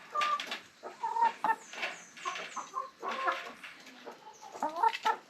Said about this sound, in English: all the chickens want to sit up here, especially the guy, the rooster